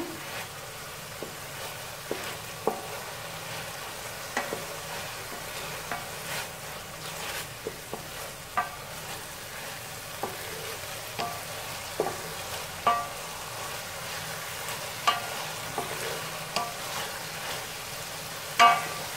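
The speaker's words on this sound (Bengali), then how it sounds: "আমার মশলাটা প্রায় কষানো হয়ে গেছে।" Spice paste being stir-fried in oil in a pan for a village chicken and papaya curry, giving a steady low sizzle with repeated soft scrapes and taps of a spoon at an uneven rhythm, close and moderately quiet, with no talking.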